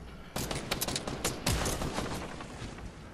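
Dense, sustained gunfire from a Battlefield firefight, with rapid overlapping shots and bursts, some close and sharp, continuing for the full few seconds without speech.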